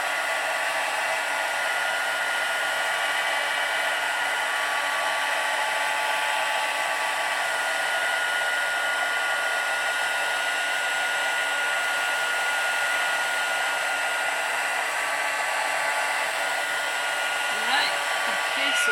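A heat tool blows steadily for about nineteen seconds, melting gold embossing powder on a purple card, a loud even whooshing drone close by with no talk.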